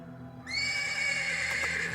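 Horse neighing in a stable in a video game, a single long loud whinny that starts abruptly after a quiet moment and carries on to the end.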